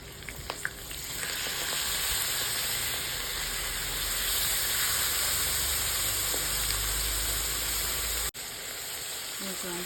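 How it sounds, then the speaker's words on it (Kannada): Four crushed garlic cloves frying in oil in a pan, giving a loud, steady sizzle and crackle that runs nearly unbroken, with one brief sharp dip near the end. "ಈಗ ಒಂದು 4 ಬೆಳ್ಳುಳ್ಳಿನ ಕುಟ್ಟಿ ಹಾಕ್ಕೊಂಡಿದ್ದೀನಿ. ಫ್ರೈ ಮಾಡ್ಕೊಳ್ಳಿ. ಈಗ ಫ್ರೈ ಮಾಡ್ಕೊಳ್ಳೋಣ."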